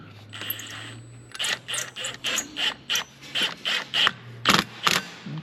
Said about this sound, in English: 16mm bolt tightens those down.